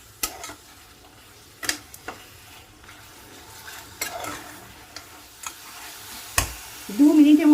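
Egg curry spices are stirred in a pressure cooker, with sharp intermittent scrapes and taps of a spoon against the pot over a quiet background, ending in a rising sizzle.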